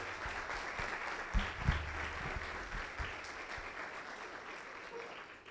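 A church congregation applauds during an evening service, a soft, fairly distant wash of clapping that holds steady for several seconds, with a few louder low thumps near the start.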